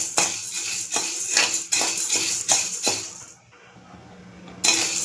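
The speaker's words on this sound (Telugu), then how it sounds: "ఫ్రై చేసుకున్నప్పుడు కొంచెం గరిటతో బాగా ఫ్రై చేయండి. అటు ఇటు తిప్పండి" Metal ladle scraping and clanking against a pan as black-eyed peas are fried and stirred, a series of sharp, close scrapes in an irregular rhythm with a short pause before a final clatter.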